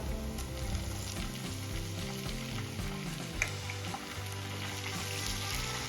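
Ginger garlic paste frying in oil in a pan, a steady close sizzle and crackle with a faint hum underneath and one small clink midway.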